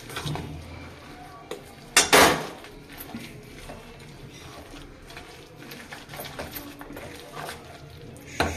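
A spoon mixes small shrimp in a bowl, giving soft scraping and clinking, with one sharper clatter early and quiet rustles throughout.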